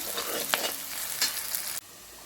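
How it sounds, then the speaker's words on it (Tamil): Bitter gourd curry fries in a pan with a constant crackling sizzle, broken by two quick scraping strokes of a stirring spoon, before the sound cuts off abruptly. "நல்லா பரட்டி விட்டுக்கலாம்."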